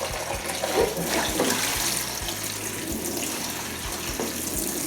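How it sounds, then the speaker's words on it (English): Hot water runs from a kitchen sink tap in a steady, close hiss of flowing water with faint clicks and knocks underneath, continuing without interruption. "run some hot water"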